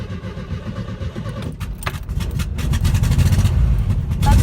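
A 1960s Volkswagen Beetle's key turns in the ignition with a brief jangle, then the engine cranks and catches, settling into a steady low air-cooled rumble that grows louder toward the end.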